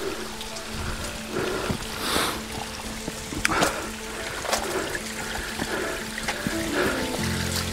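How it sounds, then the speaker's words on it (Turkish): Steady broadband patter of rain and waterfall spray falling outdoors on Table Mountain, with scattered louder drips and splashes throughout; no voices. "Resmen yağmur yağıyor şu anda."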